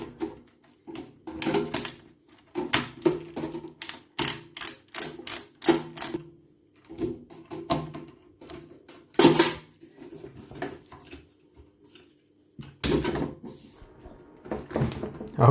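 A screwdriver working a small screw out of the base of a Morphy Richards 48319 breadmaker, heard as close, irregular clicks, taps and scrapes of metal on plastic with quiet pauses between.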